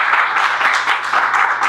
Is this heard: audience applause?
yes